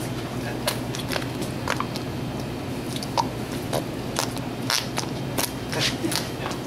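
FLARP noise putty from a dollar store is squeezed in hand, giving a stream of wet, squelching crackles and small popping bursts at an even, close level.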